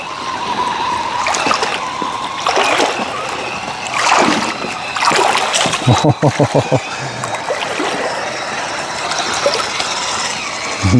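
An MJX H12P RC crawler car drives through water, giving a steady churn with mechanical gear whine, splashing and a quick run of rattling clicks partway through.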